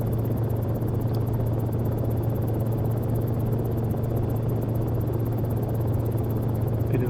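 A Cicare 8 helicopter in the X-Plane flight simulator, its rotor and engine giving a steady, unbroken rumbling drone throughout with no speech.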